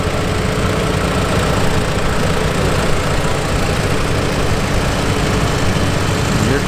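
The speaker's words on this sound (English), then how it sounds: "We have a Model B." A Farmall Model B tractor engine rumbles steadily and loudly nearby in an International Harvester tractor parade, a constant low throb with no pauses.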